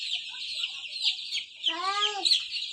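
Tiger breed chickens on a poultry farm make a steady stream of high chirps, and one louder, throaty cluck stands out near the middle, close by.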